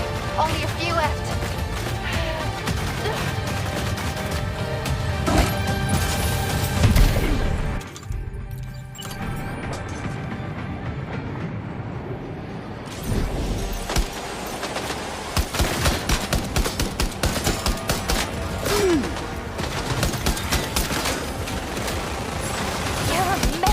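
Sustained gunfire in the video game Death Stranding 2, dense bursts of shots and impacts running almost throughout, with a brief lull midway, layered under game music and effects.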